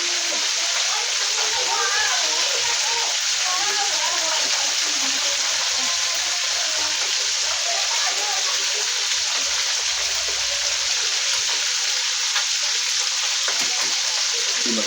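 Steady crackling sizzle of fish frying in hot oil, continuous and close, with faint background chatter and birds.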